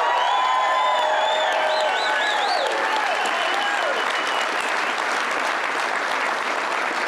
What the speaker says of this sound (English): By the way, can we give President Trump a round of applause?